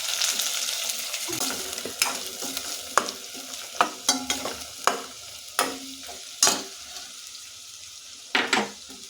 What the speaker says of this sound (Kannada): ಅದಕ್ಕೋಸ್ಕರ ಎಣ್ಣೆ ಸ್ವಲ್ಪ ಫ್ರೈ ಮಾಡಬೇಕು ಈ ಥರ ಮೀಡಿಯಮ್ ಫ್ಲೇಮ್ ಇಟ್ಕೊಂಡು ಬೇಯಿಸ್ತೀವಿ